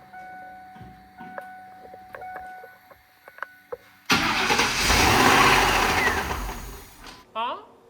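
A V8 car engine cranks and catches after a new alternator install, roaring to life loudly and running rough for a few seconds before dropping off, preceded by quiet clicks and shop sounds.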